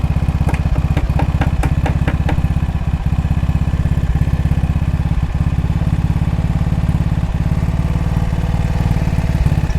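A vintage Triumph Terrier motorcycle engine runs at a steady idle, a loud, close rhythmic putter with some mechanical clatter, continuous throughout.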